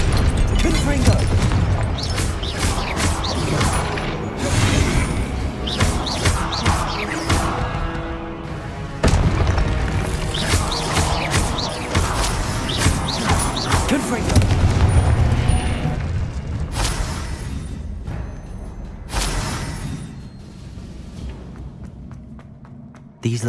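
Blasting-spell explosions from the Hogwarts Legacy video game: loud, repeated booms and thuds in a chaotic battle, with bursts of impact noise and game voices shouting over the fighting.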